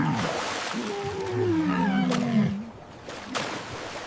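A walrus vocalizes with a low, drawn-out groaning call that rises and bends over about two seconds, followed by shorter rough bellows, fairly close over a steady background.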